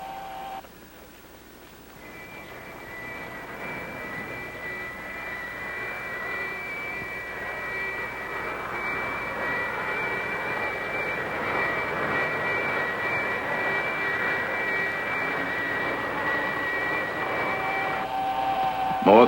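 Jet engine thrust rising in the arcade game Attack From Space: a steady, whining aircraft roar builds gradually and grows louder, holding a sustained high tone over many seconds with no voices.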